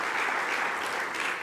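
Audience applause at the Bled Forum 2024 in Slovenia after an opening address: a dense, steady wash of many hands clapping, loud and sustained throughout with no speech over it.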